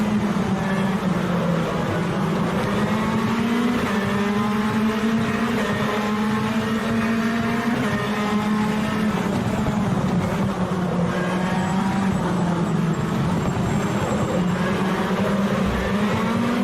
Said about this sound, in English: I've now passed 2 cars and continuing to race.